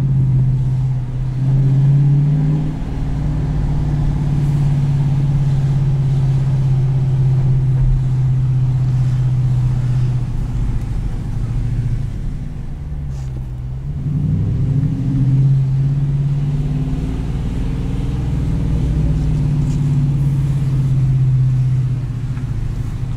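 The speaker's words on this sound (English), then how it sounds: "I'll show you what it does at higher RPMs" A 2018 Dodge Challenger T/A Plus with automatic transmission revs hard, a loud, deep engine drone held at high RPM, dropping briefly midway before climbing again, heard from inside the car.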